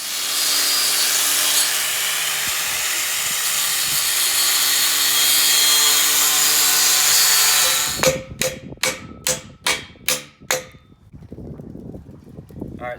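A power tool cuts a steel wedge off a custom rock slider for a Chevy Suburban, a loud continuous grinding whine for about eight seconds, then several sharp taps and clanks in quick succession.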